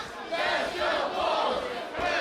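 A professional wrestling crowd chants together in a large arena, a broad, sustained roar of many voices with rhythmic swells, heard alone and fairly loud.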